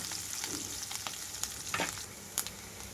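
Onions fry in a pan with a sprig of curry leaves for a spinach-leaf dal. A quiet, steady sizzle carries a few sharp stirring clicks and scrapes near the end.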